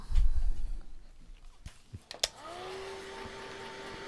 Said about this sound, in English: So we're going to dry this real quick.